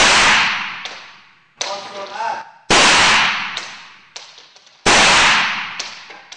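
Live gunshots ring out during military hostage-shooting training: four loud, sharp cracks, each with a long echoing tail, spaced about a second apart, with smaller shots and faint voices between them.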